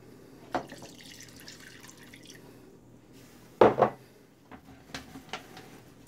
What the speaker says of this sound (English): I'm going to add just a little bit of water in it